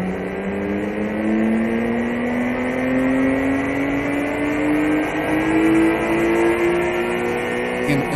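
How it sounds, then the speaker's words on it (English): An Acura NSX turbocharged engine runs hard on a four-wheel dynamometer in a production facility, a loud, steady drone whose pitch climbs slowly as the revs build, with turbo whir layered over it. "A run on this 4-wheel dynamometer tests the functionality of the turbos, the speedometer, and other parameters."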